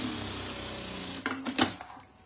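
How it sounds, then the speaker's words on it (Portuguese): A sewing machine runs a safety seam along the edge of a fabric wallet, giving a steady rapid stitching whir that ends in a few louder clunks as it stops. "a gente faz uma costura de segurança bem na beiradinha"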